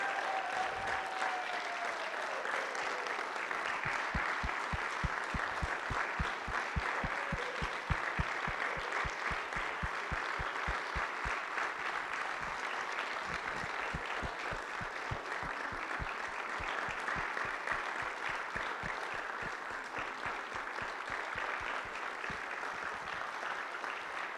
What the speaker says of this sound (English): please help me give a big round of applause for Barb Allen, our 2019 Citizen of the Year